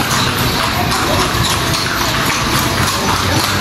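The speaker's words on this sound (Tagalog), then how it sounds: "Dito ka lang makakita sa kalye na ito yung mga kabayo na yan." Horse-drawn carriages travel a street in Vigan, Ilocos Sur, their hooves clip-clopping steadily amid a loud, dense wash of street noise, with no talk.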